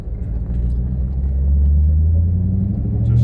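A manual car pulls away in first gear with a loud, close engine rumble that builds steadily as it accelerates.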